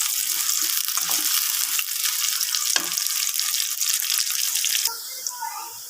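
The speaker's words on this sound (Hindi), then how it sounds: "अब हम इसमें 2 मीडियम साइज़ के प्याज थे वो शामिल करेंगे। और प्याज जो है ना हम फ्राई करेंगे।" Two medium onions fry in hot oil for chicken karahi, a close, bright sizzle with scattered pops and stirring that fades to a quieter hiss near the end.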